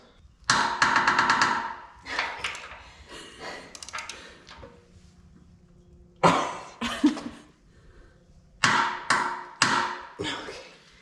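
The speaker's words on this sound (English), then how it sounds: "Now we just have to torque all these down" Bolts on a two-post car lift being torqued down in a home garage, sharp metallic clicks and knocks in irregular bursts separated by quiet pauses, close and clear.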